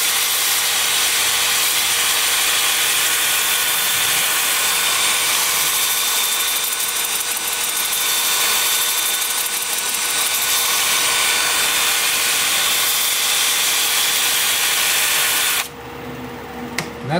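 Wood being turned on a lathe: a loud, steady broadband scraping hiss of the cutting tool on spinning stock, continuous for about fifteen seconds before it stops abruptly and the room falls quiet.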